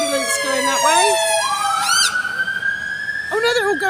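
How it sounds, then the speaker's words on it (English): Wailing emergency sirens from a fire engine and an ambulance pass along a London street. Several overlapping sweeping tones rise and fall and shift in pitch as the vehicles move by, loud and fairly close. "we've got a fire going that way and an ambulance going that way"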